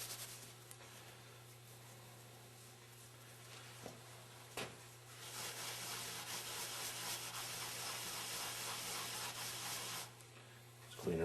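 Rust being rubbed off a collar from a Meyer E-60 snowplow pump, a soft continuous scrubbing close by over a steady low hum, starting after a few faint knocks and then stopping.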